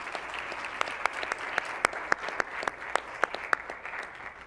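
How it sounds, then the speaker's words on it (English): A town hall audience gives a round of applause for the interpreters, a moderate, fairly sparse clapping with distinct individual claps heard indoors at medium distance, no talking over it. "So a round of applause for our interpreters for being here late tonight"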